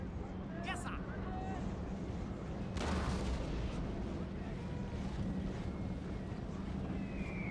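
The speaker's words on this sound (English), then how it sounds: "these guys aren't protected from these cannons" Cannon artillery fire on a Napoleon Total War battlefield: one heavy booming blast stands out midway through a steady, rumbling din of battle.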